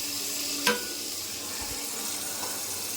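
Chopped capsicum and potato fry in a tablespoon of hot oil in a pan, a faint, steady sizzle with a brief stir or utensil clink, no talk.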